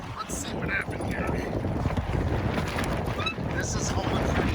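Strong wind buffets the microphone while sailing a Sunfish dinghy, a steady low roar with gusty swells and faint water wash throughout, no talk over it.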